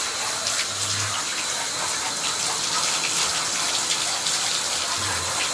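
Steady, loud rush of tap water running into a tub during a dog's bath at home, a continuous broadband gush filling the whole clip with no speech.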